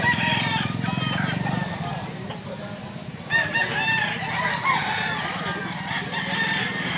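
Roosters crow and chickens cluck at a poultry market in Mantalungon, Cebu, with birds priced around 2,500 each; steady flock chatter fills the scene, broken by repeated nearby crowing over a constant background hubbub.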